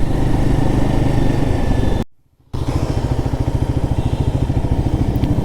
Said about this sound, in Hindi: यहाँ पे नॉकिंग आ रही है